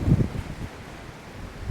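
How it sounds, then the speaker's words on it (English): Wind blowing across an open field on a rural property in late March, a steady broadband rush with a louder gust at the start and buffeting on the microphone. "it's windy out here today"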